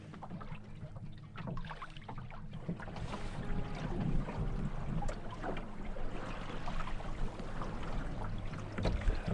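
Wind blows across open sea around a sailing canoe between Svenska Högarna and Söderarm, a constant rough gusting rush mixed with splashing water against the hull, loud and close throughout.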